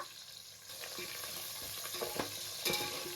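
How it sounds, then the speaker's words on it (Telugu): Seven onions and curry leaves fry in oil in a pot, giving a steady close sizzle with occasional stirring scrapes and a brief louder crackle near the end. "ఒక ఏడు ఉల్లిపాయలు ఆయిల్లో బాగా ఫ్రై అవ్వనివ్వాలి ఇందులోనే కొంచెం అంతా కరివేపాకు కూడా వేసుకుంటున్నా"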